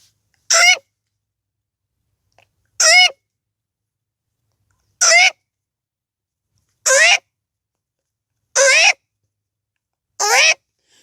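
A man imitates the call of the Himalayan monal, Uttarakhand's state bird, with six loud, sharp whistled cries spaced about two seconds apart, each one rising and wavering, with silence between them.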